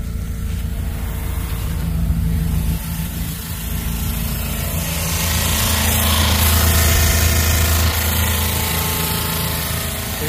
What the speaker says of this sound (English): I'm gonna fire this truck up and turn it on.